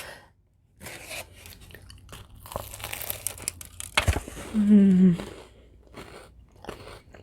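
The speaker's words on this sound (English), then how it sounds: "Did you hear that crunch? That means the ends are good and toasted." A person bites into a toasted grilled cheese sandwich, and the crisp, crackly crunch of the toasted ends comes close and loud in a few bursts, followed by chewing, with a brief hum of voice near the middle.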